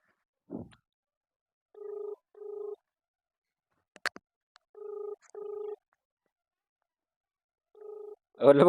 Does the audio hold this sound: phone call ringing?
yes